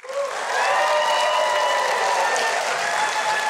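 A studio audience applauds to welcome a guest onto a talk and music show, with steady, dense clapping that rises quickly and holds loud and full throughout.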